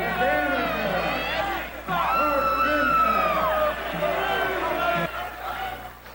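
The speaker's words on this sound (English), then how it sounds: "Listen to that crowd pop." Wrestling crowd roaring and cheering from a played match, a dense wall of whoops and shouts that surges loudly, swells again midway and stays steady under excited voices.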